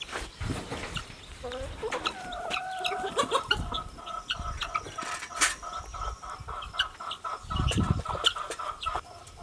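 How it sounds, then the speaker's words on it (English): Backyard chickens cluck repeatedly while being fed, with busy, close, irregular clucking mixed with a person talking to them throughout. "This is Olympia, chicken that had wry neck that Shuva cured."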